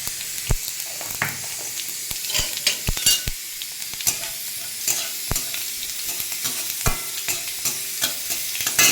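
A few five-spice tempering seeds sizzle in a little hot oil in a kadai, giving a steady close hiss punctuated by frequent spatula taps and scrapes.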